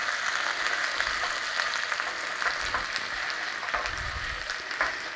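Juicy pork hoisin burger patties fry in a hot pan with a steady, close, crackling sizzle. Small pops and spits break out now and then, and no one talks.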